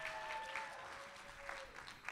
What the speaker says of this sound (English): Let's give her a round of applause for her service to this caucus